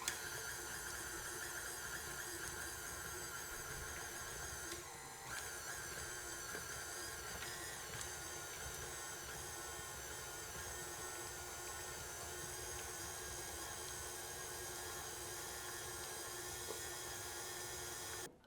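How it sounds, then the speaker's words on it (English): A stand mixer's paddle beats mascarpone, cream cheese, sugar and vanilla bean together, giving a steady, loud mechanical whir with a faint squeal that runs without a break. No one speaks. "I'm going to paddle it until all of our ingredients are combined and smooth."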